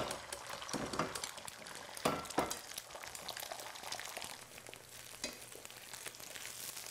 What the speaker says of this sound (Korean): 이렇게 좀 넣으시고 잘 저어주세요